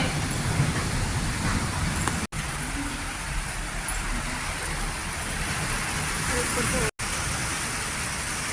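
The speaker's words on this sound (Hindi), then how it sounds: "यहाँ तक आ गई बारिश," Heavy monsoon rain pours onto a rooftop in Sirsa, a dense, unbroken hiss that stays loud throughout, with a voice speaking over it.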